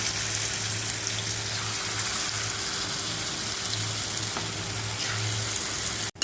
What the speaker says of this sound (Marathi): चिप्स केलेले आपण बटाट्याचे ते आपण असे डीप करून राजगिऱ्याच्या पिठामध्ये असे तळून घेऊया